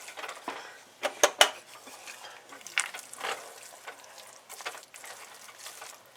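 A spoon stirs peas into turkey tetrazzini in a pot, with several sharp metallic clinks and soft scraping up close and short pauses between strokes.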